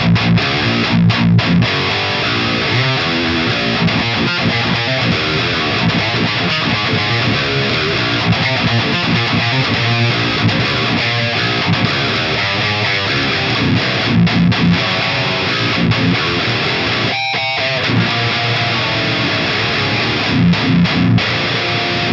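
Heavily distorted high-gain electric guitar through a Fortin Killer Kali preamp plays dense riffs with short stops, loud and continuous for over twenty seconds.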